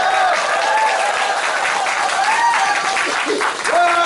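A crowd at a press conference announcing a Democratic Party candidate for mayor of Gumi, South Korea, applauds and cheers in a dense, steady roar, with voices and shouts mixed into the clapping.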